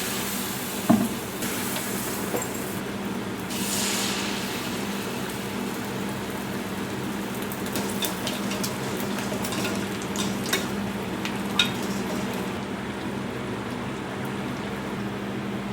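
Wheat semolina boorelu deep-fry in oil with a steady, rain-like bubbling hiss that carries on throughout, punctuated by a few small clicks and spatters.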